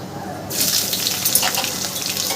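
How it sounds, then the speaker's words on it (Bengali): Chopped onions, added after black cumin seeds, begin frying in hot oil in a wok with a sudden steady hiss and sizzle that carries on evenly and close by. "পেঁয়াজটাকে আমি একটু বেরেস্তার মতন লাল লাল করে ভেজে নিচ্ছি"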